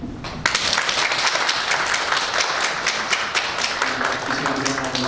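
A congregation applauds during a Sunday church service, sustained dense clapping that starts abruptly and carries on steadily, loud and close, with faint voices beneath it near the end.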